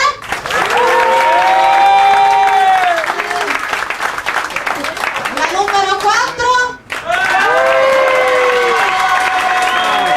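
Audience at a comedy roadshow applauding and cheering loudly, a sustained wash of clapping with shouts and laughter. It dips briefly near the end and then swells again. A voice speaks over it at one point.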